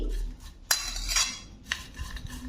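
Fried shredded potatoes being tossed with chili powder and chaat masala, with a few sharp clinks of a spoon against the pan and a soft rustling stir between them.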